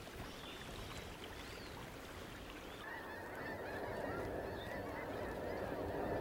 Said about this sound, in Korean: 미시시피 경로를 택한 흰기러기들이 네브라스카를 통과 중입니다